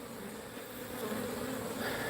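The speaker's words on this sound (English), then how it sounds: "Yeah, we got bees, y'all." Dense, steady buzzing of many honeybees around a hive during colony splitting, a continuous drone that swells slightly louder partway through, with no voices.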